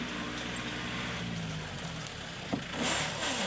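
A car's engine drones steadily in the open, loud and close, with a brief knock and a slight rise in level toward the end.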